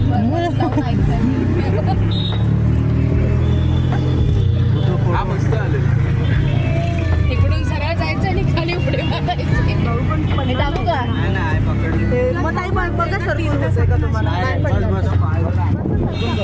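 An auto rickshaw packed full of passengers rides near Hampi, with a loud, steady engine and road rumble throughout and crowded voices chattering over it.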